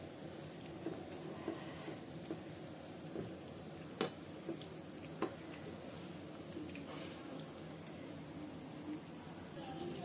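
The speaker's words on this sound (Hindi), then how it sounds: "तो इस तरह से अलटते पलटते हुए इनको क्रिस्पी होने तक हम फ्राई करेंगे।" Samosa rolls filled with potato fry in oil over a medium-to-low flame until crisp. A soft, steady sizzle continues at low volume, broken by a few faint ticks and pops.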